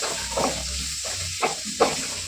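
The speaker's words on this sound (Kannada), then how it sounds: "ಚೆನ್ನಾಗಿ ಎಣ್ಣೆಗೆ ಹಸಿಮೆಣಸಿನಕಾಯಿನ ಫ್ರೈ ಮಾಡ್ಕೊಳ್ಳೋಣ ಈ ರೀತಿ ಫ್ರೈ ಮಾಡಿ" Green chillies frying in oil for a drumstick-leaf upsaru, a low crackling sizzle under soft stirring scrapes, with a few sharper pops standing out near the end and no talking.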